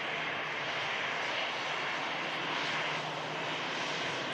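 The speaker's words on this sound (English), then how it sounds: "It's EasyJet arriving in from La Rochelle." An EasyJet airliner arriving from La Rochelle roars steadily as a broad, continuous engine wash, fairly loud and unbroken, with no voices over it.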